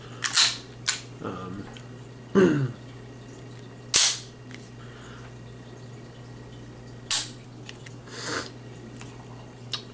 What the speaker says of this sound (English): Here's a snap cap right here, just to show how the gun functions.